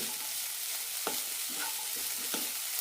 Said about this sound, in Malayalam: നന്നായി മിക്സ് ചെയ്യാം രണ്ട് മൂന്ന് മിനിറ്റ് നന്നായി വഴറ്റിയെടുക്കാം